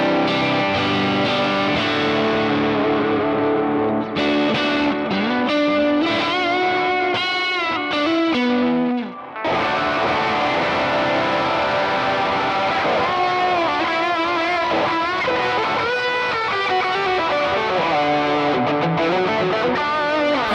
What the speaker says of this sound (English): one delay in front of the amp and another delay behind the amp and a reverb at the end